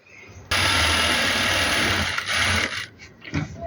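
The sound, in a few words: sewing machine stitching along a neckline strip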